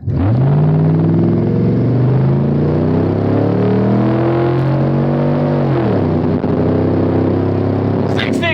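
A Ford Crown Victoria P71 fitted with a K&N cold air intake accelerates hard from a stop, its V8 engine roaring loud and close as it revs up through rising gears.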